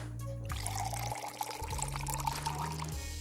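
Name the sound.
milk poured into a cereal package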